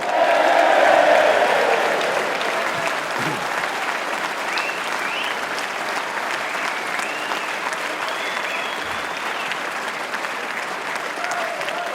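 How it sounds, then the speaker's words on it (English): Crowd at a UKIP political rally in Llandudno cheering and applauding for a Conservative Mayor of London, loud at first, then settling into steady sustained clapping with scattered whistles and shouts throughout. "give Conservative Mayor of London, Boris Johnson, a big cheer for saying that"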